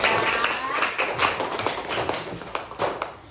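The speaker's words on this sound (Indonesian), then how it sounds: "tepuk tangan untuk kita semua, hebat anak-anak ibu" Children in a primary school classroom clap together in a dense, uneven burst of applause for a few seconds, with a voice talking over the clapping.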